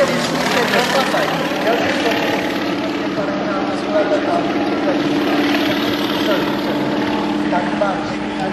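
The engine and propeller of a Yak-55 aerobatic airplane drone steadily overhead, a loud continuous buzzing roar while someone speaks over it.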